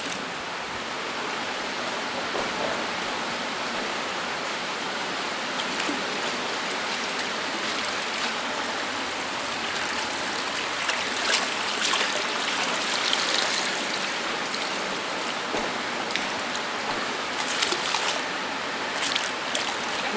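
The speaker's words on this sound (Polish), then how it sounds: "Teraz już wodę spuszczam." Water drains steadily from a fish container, a continuous splashing rush with small droplet patters, close and even in level throughout, with no voices.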